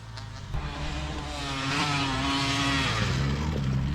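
A dirt bike engine revs at a motocross track, a droning motor nearby that climbs in pitch and holds a strained high rev before easing off, with no talking.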